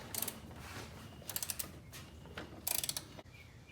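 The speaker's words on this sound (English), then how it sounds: "I've got a ratchet on there, Seth, if you want to work that out." A ratchet wrench working in a cramped spot under the dash of an SVO Foxbody Mustang, giving short bursts of quick clicking strokes with pauses between, fairly close.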